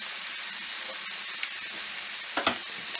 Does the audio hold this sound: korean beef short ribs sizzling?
yes